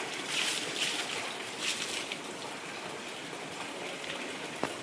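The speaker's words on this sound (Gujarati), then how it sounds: "તો ભાઈ હાવ એટલું બધું વરસાદ આવે છે." Heavy rain after a day-long downpour in rural Gujarat, a dense, even hiss of falling water with faint scattered drops, steady and moderately distant, with no voices.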